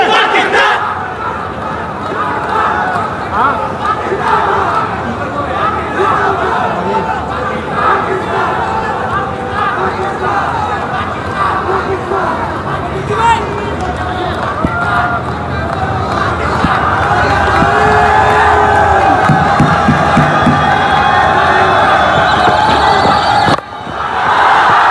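Crowd at a cricket stadium during a Pakistan vs UAE T20 match in the UAE, a steady, moderately loud roar of cheering and chatter that carries on throughout and swells slightly toward the end.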